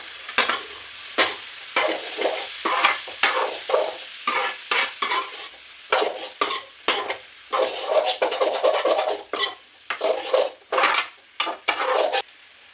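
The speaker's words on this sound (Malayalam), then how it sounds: "സവാള വഴറ്റിയെടുക്കാം" Onions sautéing in a pan for a home-style chicken curry, with a frying sizzle broken by frequent clattering strokes of a spoon scraping and stirring, irregular bursts separated by short gaps, close up.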